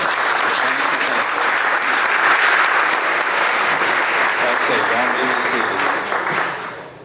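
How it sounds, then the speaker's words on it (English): At a chamber of commerce annual meeting and community awards event, a large audience applauds steadily as a dense, loud wash of clapping that fades out at the very end. "So let's give everybody a round of applause"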